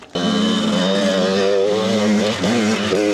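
A cross motorcycle climbs a rocky, rutted hill trail, its engine a loud, close, steady drone with a brief dip and rev partway through.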